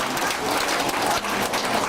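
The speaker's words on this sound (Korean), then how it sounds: "박수 한번 보내주시죠" Brief, steady applause from a church audience fills the moment as a dense clatter of many hands at even loudness, with no speech over it.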